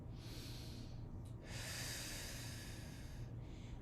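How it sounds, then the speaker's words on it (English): A Pilates exhale, a long breathy rush of air close to the mic, preceded by a shorter breath, heard alone without talk. "Take an inhale, exhale"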